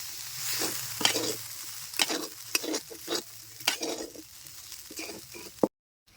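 A spoon stirs a puffed rice dish with kewra water and rose water mixed in, giving a series of close, irregular scraping strokes over a soft background sizzle before ending abruptly.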